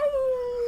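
A person imitates a wolf howl during a tabletop role-playing game, holding a single steady, tonal, slightly wavering note that is brief, close and loud, with no talking.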